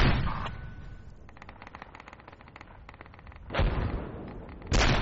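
Sustained video-game gunfire with many rapid, closely spaced shots forming a continuous crackling volley, framed by heavier, louder blasts at the start and again near the end.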